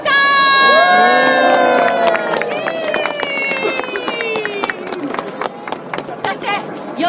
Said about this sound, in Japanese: 後ろからでも声援を送ってください